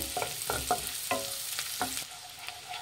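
Chopped onion frying in butter for paneer butter masala, soft sizzling under a series of distinct spatula stirs and scrapes against the pan, close and fairly quiet, with no voices.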